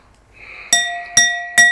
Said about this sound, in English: That's the perfect amount of wine in the glass to make that tone.